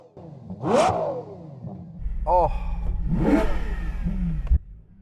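A roughly 1200-horsepower car engine with a Novatek exhaust revs up sharply, then roars steadily with a deep rumble and rising whine, close and loud, with a brief exclamation from a voice.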